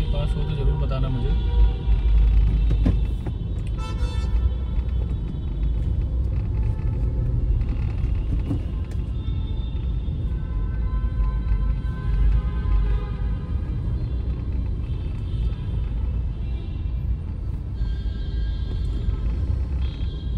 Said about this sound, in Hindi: धीरे धीरे ट्रैफिक चलता रहता है